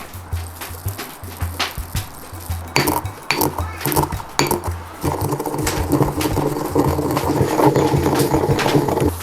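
A pepper mill grinds fresh black pepper over a milk-fed rack of lamb, making a loud, continuous crunchy rattle with sharp clinks. No one speaks.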